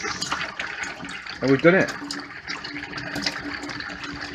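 Water running from a tap after a Whale Watermaster FP0184 pump repair, a gushing, splashing flow that rises and falls in short bursts as someone speaks over it nearby.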